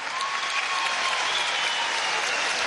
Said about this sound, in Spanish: Vamos a dar un aplauso a Jason.